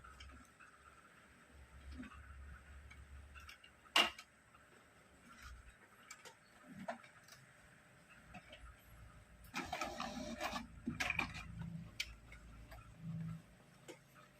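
An HP ink tank printer with a failing black print head runs a test print. Faint clicks and ticks give way to a short burst of mechanical whirring midway, then quieter tapping, all at low level.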